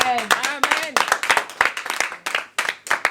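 A church congregation claps to acclaim the Lord, sharp hand claps landing in uneven bursts under shouting voices close by.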